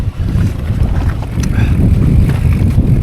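Strong wind buffets the microphone on a moorland walk on the Widdop loop near Todmorden, a loud continuous low rumble with gusty swells, alone with no talk.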